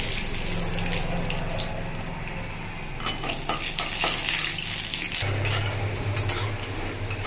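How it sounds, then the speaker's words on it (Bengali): Peanuts frying in hot oil in a home kitchen while being stirred, giving a steady sizzle with scraping and clinking stirs that grow busier midway, alongside a persistent low background hum. "এই বাদামটা আমি ভেজে নেব। তেলটা গরম হয়ে গেছে, দিয়ে দিই। দিয়ে এভাবে নাড়তে থাকবো।"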